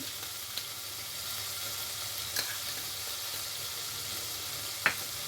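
Green chili and ginger paste fries in a pan with salt and whole cloves, a soft, steady sizzling hiss broken by a few brief clicks of stirring.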